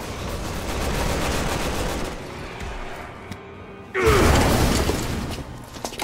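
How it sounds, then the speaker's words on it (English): A flashbang grenade bursts in a video game, a sudden loud blast after a stretch of mechanical clatter and muffled combat noise, followed by a ringing, noisy aftermath. "Flashbang."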